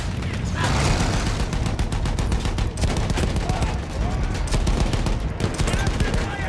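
Dense, continuous machine-gun fire with heavy booming artillery blasts mixed in, from the video game Battlefield 1, loud and relentless throughout, with occasional French voices underneath.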